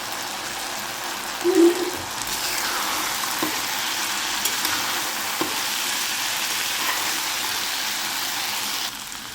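Tindora and potato shaak sizzles in a pan as sugar and sesame seeds are stirred in, a steady, close hissing fry with occasional soft knocks from the spoon and no speech over it.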